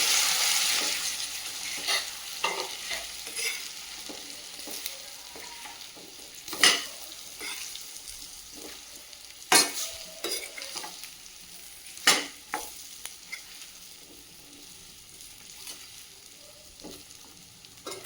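A spoon stirs steamed gooseberries in a pan for pickle, scraping and clinking against the metal over a soft sizzle, with a few sharper knocks scattered through the steady mixing.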